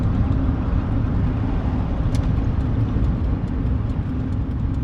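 A cheap Mazda Miata drones steadily while driving, a loud, continuous low exhaust hum filling the cabin without letup, with no voices over it.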